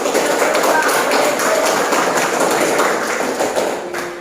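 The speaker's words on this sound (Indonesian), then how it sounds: "Silakan kelompok 4 kita kasih aplaus dulu untuk mempresentasikan." A classroom of students claps for a group about to present, a dense, steady patter of many hands lasting the whole stretch and easing slightly near the end.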